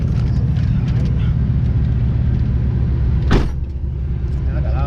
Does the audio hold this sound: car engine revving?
yes